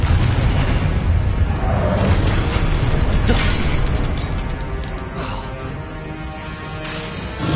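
Blasting spell explosions in a Harry Potter video game, a dense run of booming bursts and crackling pops layered over game music, loud throughout and easing slightly toward the end.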